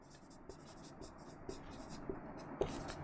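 Chalk or marker writing out a number example on a board during a maths lesson on divisibility rules, a quiet steady scratching with a few sharper taps, faint and continuous with no voice over it.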